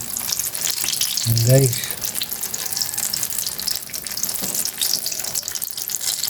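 Eggplant frying in a pan, a steady hissing sizzle throughout with a brief louder clatter near the start, no one talking.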